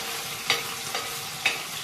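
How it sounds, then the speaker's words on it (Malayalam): Thin slices of potato frying in hot oil give a soft, steady sizzle, with three brief, sharper bursts of spattering spaced about half a second apart. "ചെറുതാക്കി അരിഞ്ഞ് അതും എണ്ണയിൽ ഈ തേങ്ങ വറുത്തെടുത്ത പോലെ തന്നെ കിഴങ്ങും വറുത്ത് എടുക്കുകയാണ്"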